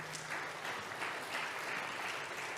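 Audience at a church celebration service clapping in blessing, a soft, steady wash of applause heard at a distance for a few seconds.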